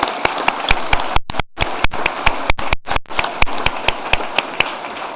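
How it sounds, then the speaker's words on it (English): An audience claps at a school junior prize-giving, loud and close. Sharp individual claps stand out over the dense applause, which briefly thins twice before picking back up. "a round of applause, please"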